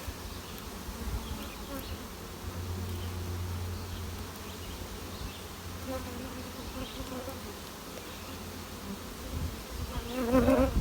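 Honey bees swarm around an opened communal honey super on a hive, a dense, continuous buzzing up close that swells and thickens near the end.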